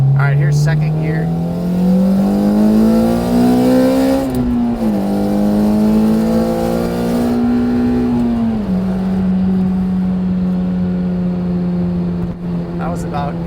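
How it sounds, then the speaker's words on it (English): A supercharged Lotus Elise accelerating hard in second gear, its engine note climbing steadily with a piercing supercharger whine close behind the cabin, loud and sustained before a brief dip as revs change. "with the supercharger and being able to hear that whine right behind your head"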